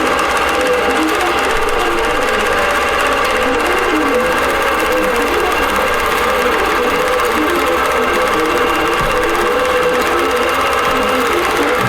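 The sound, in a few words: sewing machine stitching appliqué on a basted quilt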